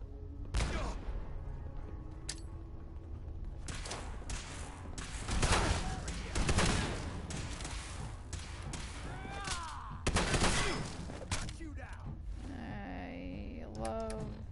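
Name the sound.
shotgun fire in a video game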